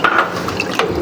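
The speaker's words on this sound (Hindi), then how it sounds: "पानी मैंने इसमें ऐड कर दिया" Water poured into a pot of mutton curry, a brief, loud, continuous splashing fill with bubbling liquid texture, heard alone.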